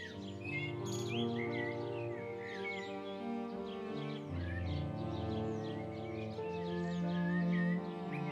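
Several small social weaver-type birds chirp and twitter continuously in overlapping bright calls near their hanging woven nests in Mali, fairly close and steady throughout.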